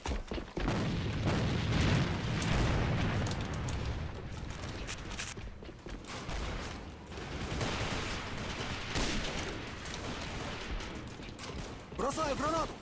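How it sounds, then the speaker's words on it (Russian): A grenade goes off in a video game's factory map during quick-match demolition play, with dense rumbling explosions and gunfire filling the clip and voices calling out over the din. "Бросаю гранату!"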